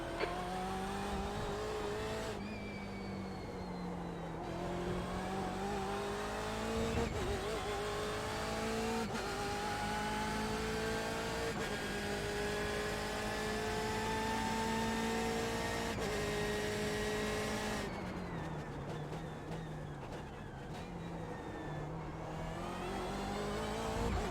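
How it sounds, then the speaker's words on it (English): A Porsche race car in the iRacing video game drones steadily, the engine note rising and falling through gear changes on a bumpy track, with brief downshift blips and no talking. "It's way too bumpy on this track, the Porsche."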